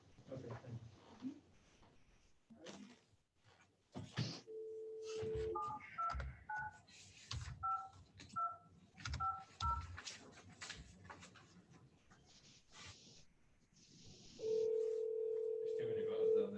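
Telephone keypad tones beeping in a quick run of button presses, followed by a steady dial tone, with people talking faintly in a hearing room around them.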